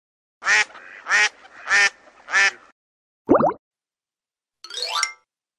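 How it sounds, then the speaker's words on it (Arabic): A duck quacks four times in an even rhythm, close and loud, then a quick plop and a sparkling chime follow. "بطة"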